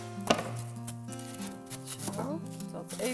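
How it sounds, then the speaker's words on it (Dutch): A knife cuts a small piece of floral foam (oasis) for a cactus arrangement in a cage-style planter: a few soft, quiet cutting scrapes under steady tonal background music. "Ik begin met oase erin te snijden. Ik snijd een klein stukje af"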